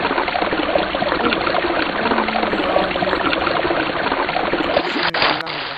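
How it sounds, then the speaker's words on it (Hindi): Water gushing steadily in the blocky building game Mini Block Craft, a constant loud rushing flow with no breaks, ending abruptly, and no talk. "तो मैं पानी निकालने की कोशिश कर रहा हूँ"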